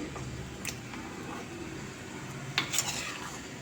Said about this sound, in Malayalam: ഞാനിനി അതിലേക്ക് അരച്ച് വെച്ച തേങ്ങ ഒഴിച്ചു കൊടുക്കുകയാണ് ഇനി ഒന്ന് ഇളക്കി കൊടുക്കാം